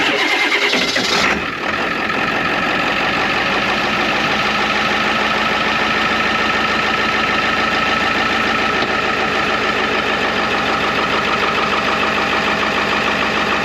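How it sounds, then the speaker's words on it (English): A truck engine cranks briefly and catches on a cold winter day, then settles into a steady, loud, even idle with a fine rhythmic knock, running alone for over ten seconds. "This truck always starts right up."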